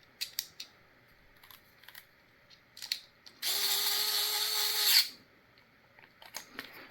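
A power driver runs in one steady whir of about a second and a half, tightening a screw into a 3D-printed 16-gauge C-Mag. Scattered clicks and plastic handling noises come before and after it.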